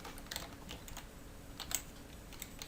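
Code is typed on a computer keyboard in a quick, irregular run of light key clicks, fairly close and quiet, with no one talking.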